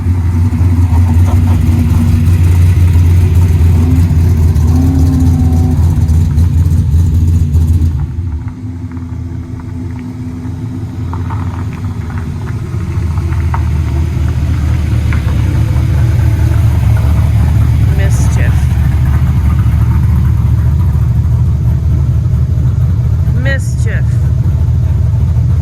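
Street cars with revving engines approach: a loud, deep engine rumble. It drops briefly, then builds again into steady throaty revving nearby.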